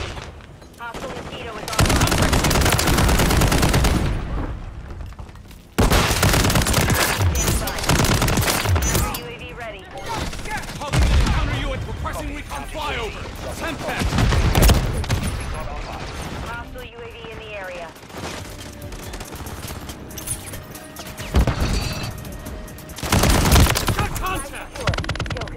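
Bursts of automatic gunfire in a first-person shooter video game, loud rattling volleys repeating through the whole stretch with short gaps between them.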